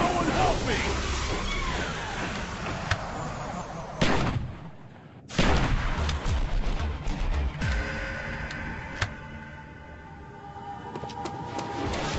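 Loud shotgun blasts boom in Call of Duty Zombies on iOS, mixed into dense game noise and voices, with the sound briefly dropping out between heavy shots.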